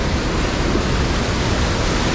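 Bridal Veil Falls at Niagara Falls pours in a loud, steady broadband roar of falling water, close and unbroken, with no voices.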